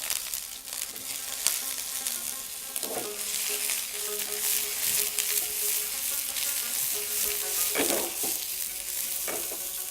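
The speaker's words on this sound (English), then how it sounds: "we're going to saute some vegetables" Carrot, zucchini and potato sautéing in a pan give a steady close sizzle with occasional stirring scrapes, alone, with no talk.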